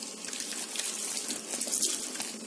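Water from a salon tap running steadily over hair being rinsed after a tannin smoothing treatment, a close, continuous gushing splash with no voices.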